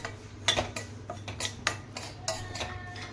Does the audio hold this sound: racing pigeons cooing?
no